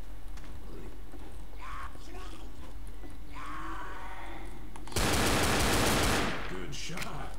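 Gunshots in the Left 4 Dead video game (Death Toll, The Church): steady game ambience with faint shuffling, then a loud, close burst of rapid fire lasting about a second before fading back to background.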